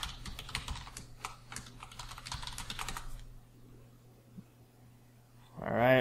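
Computer keyboard typing, a quick burst of close key clicks for a few seconds before going quiet, with a voice talking over it.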